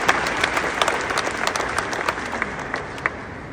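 Audience at the start of a Detroit history tour applauding and cheering for the guide, a dense burst of clapping from a nearby crowd that holds steady throughout.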